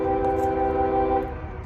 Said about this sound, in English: Here comes a train. You can hear it.